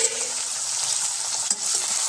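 Tomato and mixed vegetables for a vegetable biryani fry and are stirred, making a dense, steady sizzle with one brief scrape of the spoon, close and loud with no speech.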